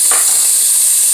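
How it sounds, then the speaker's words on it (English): Meat sears in a hot pan for Cajun sausage pasta, a loud steady sizzling hiss that holds constant with a brief faint knock near the start. "all I'm doing is getting a nice sear on my meat"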